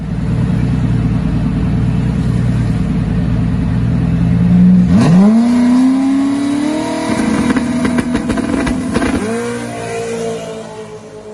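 A stock Gen 1 Coyote V8 car roars hard through an 8.26-second drag strip pass, loud and close, its engine note climbing steadily and then dropping sharply at each gear change, with two distinct shifts.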